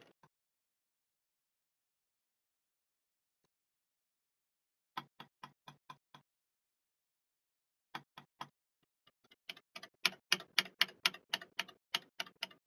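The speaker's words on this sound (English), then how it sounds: "you can barely hear me typing on the keyboard" Keystrokes on a computer keyboard, first a sparse run of a few quiet taps, then a pause, then faster, louder bursts of clicking near the close.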